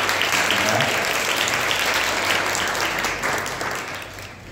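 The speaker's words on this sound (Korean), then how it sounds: "잠깐만 일어나 주시면 큰 박수로 환영하겠습니다" A church congregation at Sunday worship claps loudly to welcome a visiting family, a dense steady burst of applause that fades slightly toward the end.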